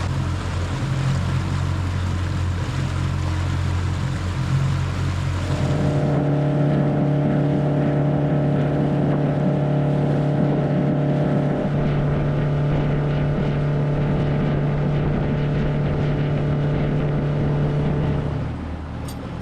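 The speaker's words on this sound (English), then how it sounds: "We motored up to the entrance to the Cross Florida Barge Canal" A motorboat runs steadily along the Cross Florida Barge Canal, its engine a loud, continuous drone with a shift in tone partway through, then holding an even hum with wind buffeting the microphone and no voices.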